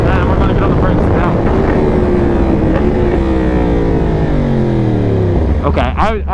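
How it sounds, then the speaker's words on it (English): A 2021 Yamaha R1 motorcycle fitted with Galfer race pads brakes hard from speed. The engine note sinks steadily under heavy wind roar, then gives a few sharp blips at the very end. "And we're gonna get on the brakes now."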